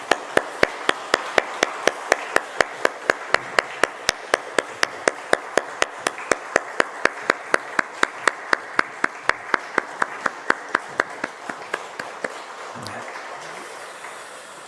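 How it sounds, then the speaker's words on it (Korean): A church congregation at a family dawn prayer service claps in unison, producing a crisp, steady beat of about three to four sharp claps per second that runs for roughly twelve seconds before stopping. "우리 뜨겁게 한번 박수하겠습니다"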